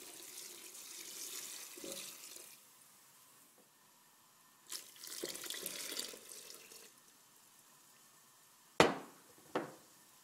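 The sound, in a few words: pouring water into a pot of sauteed soy dish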